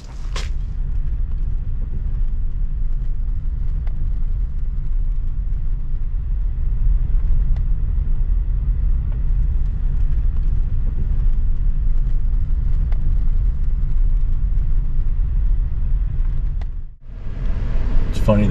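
Steady low engine rumble of a pickup truck driving along a rural road during deer season, continuous and close, with a brief dip near the end as it slows or shifts.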